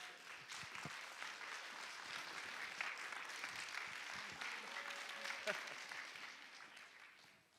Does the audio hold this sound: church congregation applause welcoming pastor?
yes